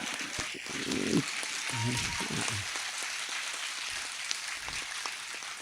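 A steady wash of crowd applause at Hariom Pawar's Hindi poetry recital in Shahjahanpur, sustained and somewhat distant, with a voice briefly rising over it early on.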